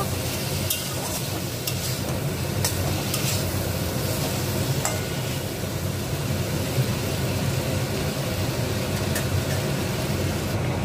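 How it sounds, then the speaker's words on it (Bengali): Mixed vegetables with prawns, seasoned with cumin powder, are stir-fried in a pan: a continuous close sizzle with scraping stirs and occasional sharp clicks of a utensil against the pan, and no one talking. "আমি এই দিয়েই সবজিটাকে ভালো করে কষিয়ে নেব।"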